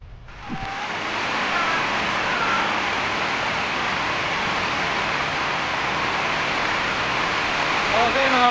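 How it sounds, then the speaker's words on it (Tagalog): Heavy rain pours down on a mountain road at Aningalan, San Remigio, Antique, a dense, loud, unbroken hiss that starts abruptly and holds steady close around the listener. "nabutan tayo dito ng malakas na ulan sa Aningalan"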